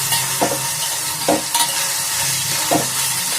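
Tomatoes frying in a pan for poori curry, with a steady broadband sizzle and a few soft stirring scrapes spaced through it, close and fairly loud, no voices.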